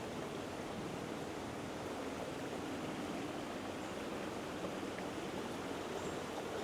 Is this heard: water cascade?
yes